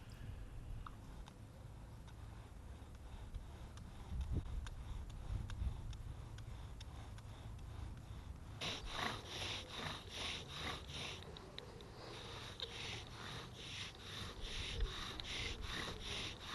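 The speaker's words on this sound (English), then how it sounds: "then I'm going to start drilling slowly at first" Steady wooden rubbing and creaking of a bow drill, hazel spindle on clematis, picking up from about eight seconds into a rhythmic back-and-forth grinding with bright scraping strokes, close by, no talk.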